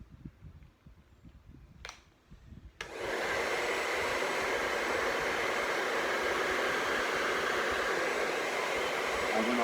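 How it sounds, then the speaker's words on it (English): A handheld blow dryer set on high switches on after a few soft clicks and then roars in a steady, loud, close whoosh while heating the neck of a glass bottle. "I've got my handy blow dryer,"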